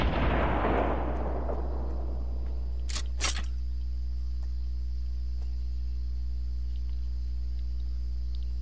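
Gunfire in the Fortnite battle royale: a heavy boom fades out at the start, then two sharp shots ring out over a steady droning background, with no voices.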